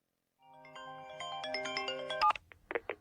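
A telephone ringtone plays a bright electronic melody of quick stepped notes, close and clear. It cuts off abruptly and is followed by a few sharp clicks in a quiet room.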